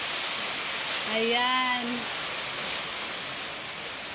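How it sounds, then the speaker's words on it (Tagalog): Steady rain falls over a rural province under a dark sky, a broad continuous hiss filling the clip, with a voice speaking briefly in the middle over it. "So this is raining in the province"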